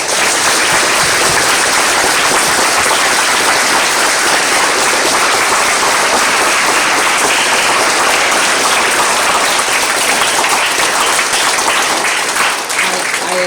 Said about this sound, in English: I would like all of us to show a big round of applause.